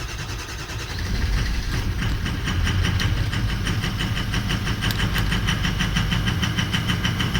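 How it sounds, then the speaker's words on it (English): Ford 6.0L Powerstroke diesel engine with a rough-running fault cranks and then runs: a loud, steady mechanical clatter with a rapid pulsing rhythm, heard close and continuing throughout. "I'm gonna go ahead and crank this over."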